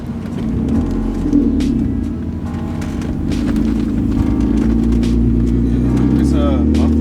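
A car with a muffler delete exhaust runs nearby, a loud deep rumbling engine note that holds steady and swells slightly, with voices talking over it.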